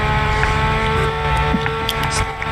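Race car engines in a Le Mans sim race, a steady droning roar with harmonic whine and brief rising passes over it, heard under live race commentary.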